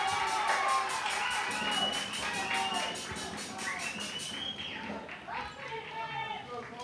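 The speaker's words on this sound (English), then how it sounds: "A great crowd on hand here as Cole York strides to the plate for Collegeville." Crowd noise at a 15U youth baseball championship game, a steady murmur of spectators filling the background while someone talks over it throughout.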